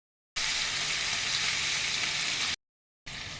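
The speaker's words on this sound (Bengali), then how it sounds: "এবার আমি মাছগুলো দিয়ে দেবো।" Marinated fish pieces hit hot oil in a pan and give a loud, steady sizzle that cuts off abruptly, then starts again briefly after a short gap, with no one talking.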